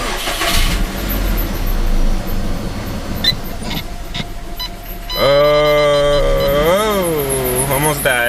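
A Subaru WRX with a newly switched ECU map cranks and fires, then settles into a loud rough idle with a high squealing whine from a slipping AC or power steering belt that rises and falls.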